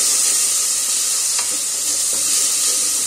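Vegetable hakka noodles stirred in a hot pan, a loud, steady sizzle of frying with a brief scrape of the utensil, close and continuous with no talk.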